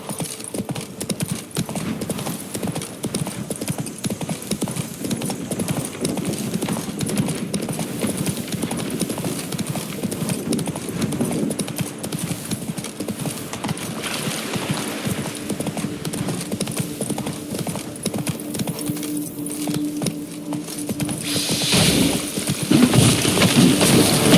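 Horse hooves clip-clop at a steady galloping rhythm in The Witcher 3, continuous and fairly close with game ambience beneath, swelling louder near the end.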